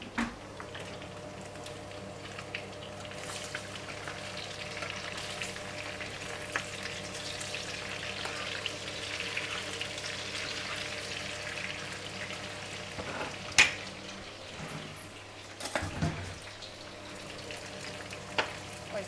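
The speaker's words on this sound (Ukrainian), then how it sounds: "Вже сало піджарили з м'ясом." Pork fat and meat frying in a pan, a steady soft sizzle throughout with occasional stirring clatters near the end, fairly quiet and close, no talking.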